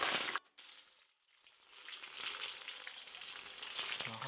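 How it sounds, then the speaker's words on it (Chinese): Pufferfish liver sizzles as it is stir-fried in a hot wok. There is a brief quiet gap, and then a soft, steady frying hiss builds and holds at low volume. "先把河豚肝放入锅中煸炒"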